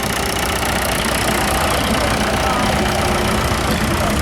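A tractor engine idles steadily in an outdoor parade arena at a spring fair, a continuous rumbling drone, loud and unbroken throughout, with crowd noise and voices mixed in.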